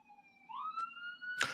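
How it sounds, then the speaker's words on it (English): A police siren passes outside, its tone rising and holding steady in a clear wail, moderately loud, with a sharp click or knock at the end; no talking. "Shout out to the sirens."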